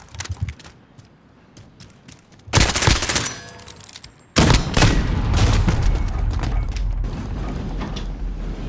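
AS VAL suppressed rifle fire in Call of Duty Modern Warfare, two loud dense bursts after a quieter opening, the second running on to the end with rattling mechanical action.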